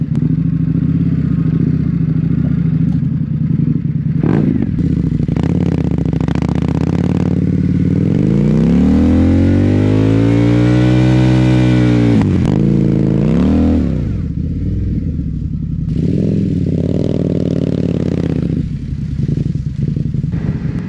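An Indian motorcycle engine revs up and down with sweeping pitch, loud and close, with some clattering and road noise and no talking.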